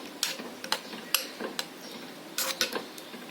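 Spoon stirring an Olan, a mild coconut milk dish finished with coconut oil, in a pot: a handful of light metallic clinks and scrapes in an irregular rhythm, close and fairly quiet, with no voices.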